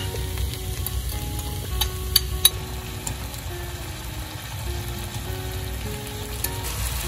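Steady frying sizzle as a sauce of soy sauce, oyster sauce, sugar and vinegar hits a hot pan with tofu noodles, with a few clinks of a utensil stirring, continuous and fairly close.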